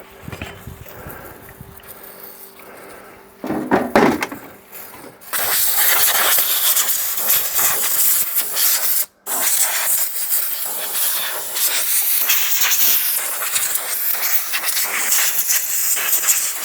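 Brake cleaner sprays from an aerosol can in a workshop, a loud sustained hiss that starts after a few short bursts and runs steadily, broken by one brief pause.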